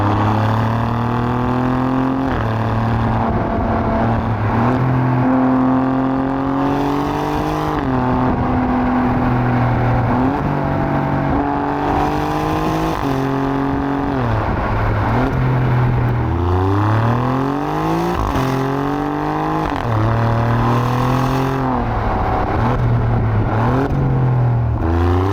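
An Alfa Romeo Giulia Quadrifoglio saloon revs and accelerates hard through repeated gear changes, its engine note rising, dropping and climbing again, loud and close throughout.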